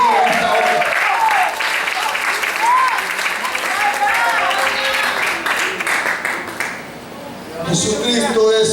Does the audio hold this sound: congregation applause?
yes